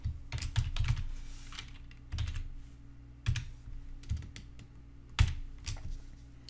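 Keys on a computer keyboard clack in quick bursts as a password is entered, several short clusters of crisp taps separated by brief pauses, close and fairly quiet with no talking.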